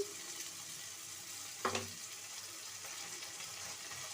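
Ginger paste hitting hot oil in a pan with onions and tomatoes for a home-style curry, giving one short sharp sizzle burst midway that settles back into a steady low frying hiss.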